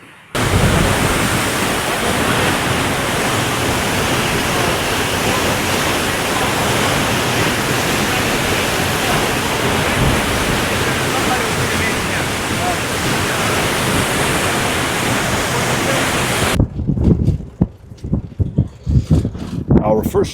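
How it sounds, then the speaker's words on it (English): A waterfall roars as a loud, constant broadband rush for most of the stretch before dropping away sharply near the end into quieter, uneven sounds. "We have arrived at the waterfall."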